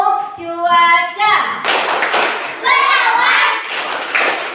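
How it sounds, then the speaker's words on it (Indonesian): In a classroom, children play a weather clapping game: a sung chant opens it, then several rhythmic bursts of group hand-claps and taps follow, with the children's voices chanting along between and over the claps. "Yuk kita tepuk cuaca dulu ya"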